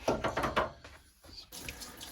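Water from a darkroom sink tap runs and splashes as a black-and-white print is washed, a close burst of rushing flow that drops briefly then resumes steadily.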